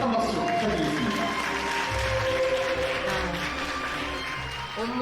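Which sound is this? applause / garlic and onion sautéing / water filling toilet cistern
applause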